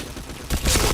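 A burst of gunfire in the online shooter PointBlank, a sudden loud blast that follows a quieter stretch of game noise and cuts off within a second.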